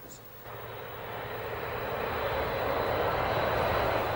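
Military aircraft flying overhead during a naval air attack in the Falklands War, a steady broadband engine roar that swells gradually and stays loud throughout, with faint narration underneath.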